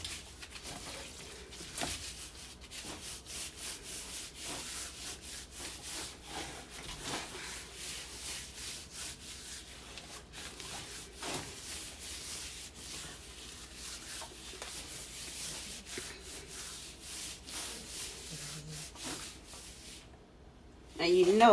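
Onion and garlic powder seasoning is rubbed by hand into a raw pork butt, giving steady soft scrubbing and patting close up, with a person talking throughout.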